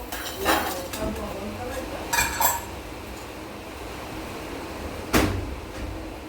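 A pan clanks down among dishes in a home kitchen, with a few sharp metallic clinks and clatters spaced apart, close and fairly loud over a steady room hum, a voice speaking nearby.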